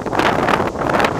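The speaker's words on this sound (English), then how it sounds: "a bit windy, just tonight, today anyway" Strong wind at a campsite in Cornwall buffets the microphone, a loud continuous rumbling gust with no voices.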